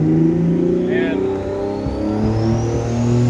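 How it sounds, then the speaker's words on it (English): A car runs on a dyno inside a shop, its engine droning at a steady mid-pitched hum with a slowly rising tone, loud and close, while someone talks over it. "If you can't hear me, it's because there's a car on the dyno"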